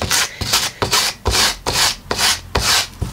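Fabric edge being roughed up to weather it, eight firm rasping scrubs in a steady back-and-forth rhythm, loud and close with brief pauses between strokes.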